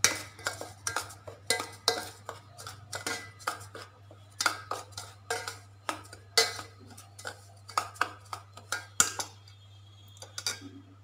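Rava puttu mixture stirred in a bowl with a spoon, a steady series of close scraping strokes and light metallic clinks against the bowl's sides, no talking.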